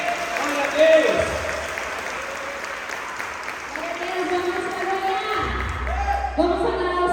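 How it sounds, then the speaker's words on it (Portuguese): A church congregation applauds in a lively wash of clapping at an evening worship service. Someone speaks and singing voices rise over the clapping. "aplaudimos o Senhor nessa noite"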